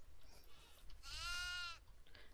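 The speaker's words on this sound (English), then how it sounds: "I'm about to get a goat." A goat in the horror video game Devour lets out a single clear bleat that rises and falls over about half a second, over a low rumbling game ambience.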